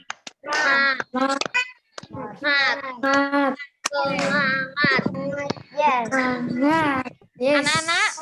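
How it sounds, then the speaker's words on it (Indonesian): Schoolchildren on a Zoom class do a 'tepuk semangat' clapping chant, voices rhythmically calling out with sharp hand claps and snaps punctuating the chant, close and lively over several seconds. "Oke, tepuk semangat."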